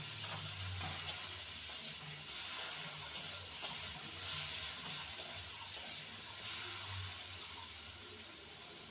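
Potatoes frying in a pan for a water spinach and lentil dish, a continuous hiss of sizzling oil at even loudness with occasional soft clinks and no speech.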